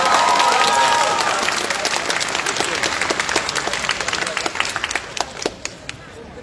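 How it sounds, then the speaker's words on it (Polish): Audience applause at a cosplay contest, loud and dense at first, then thinning out into scattered individual claps as it fades, with faint crowd voices underneath. "Przy okazji wielkie brawa dla wszystkich helperów, którzy pomagają."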